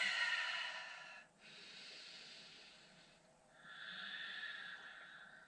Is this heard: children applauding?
no